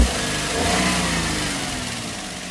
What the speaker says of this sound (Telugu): ఇంజన్ సౌండ్ అంటే మీరు విన్నారు